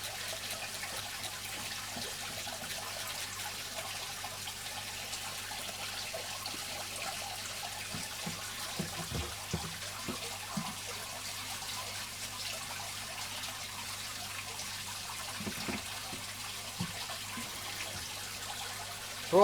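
Water is trickled quietly into a small budget shrimp tank, a faint, steady gentle pour with occasional soft splashes and no talking.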